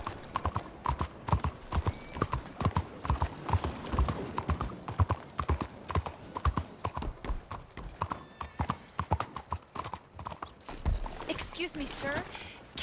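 Horse hooves clip-clop in Red Dead Redemption 2, a steady, even rhythm of close, sharp hoof strikes throughout, with a brief voice near the end.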